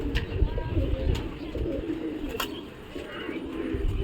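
Soft, low cooing from Madrasi pigeons repeats through the clip, close by, with a few faint chirps and light rustling in the background.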